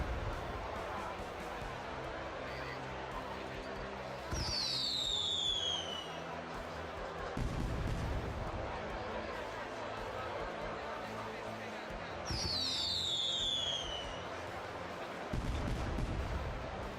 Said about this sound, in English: Well, this is fireworks working.